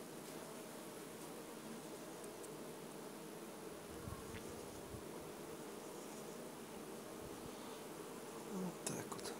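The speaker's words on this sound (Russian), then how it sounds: "Выходит пчела и заливает ячейки медом." A dense, faint hum of many honey bees buzzing together inside a hive, steady and close, with occasional soft rustling and a brief clatter near the end.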